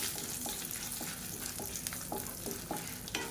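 Cumin and dried red chillies fry in a pan with a constant close sizzle, punctuated by regular light scraping taps as they are stirred.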